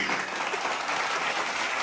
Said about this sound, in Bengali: জোরে হাততালি হবে সবাই মিলে।